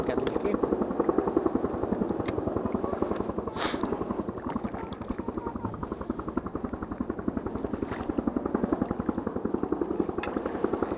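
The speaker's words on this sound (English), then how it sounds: "Helicopter." A helicopter's rotor thumps loud and steady overhead at a lake, a fast rhythmic beating that holds throughout while people talk underneath.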